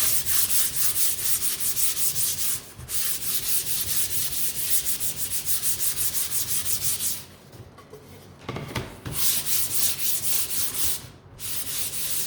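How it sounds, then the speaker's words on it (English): Sandpaper rubs steadily back and forth over a wooden Halloween ghost sign, a close, continuous scratchy hiss broken by a few brief pauses. "wiping it on something will just take it off, and then you can use your sandpaper"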